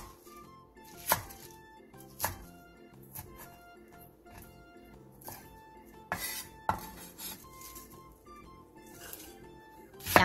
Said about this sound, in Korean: 부추 500원 정도 크기 한 줌을 2에서 3cm 정도 길이로 잘라주세요.